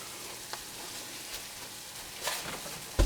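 Chopped onion cooks in a pan for creamed scallops, giving a soft, steady sizzle with a few faint ticks and a sharper knock right at the end.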